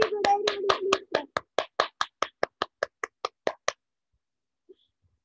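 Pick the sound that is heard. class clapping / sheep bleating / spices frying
class clapping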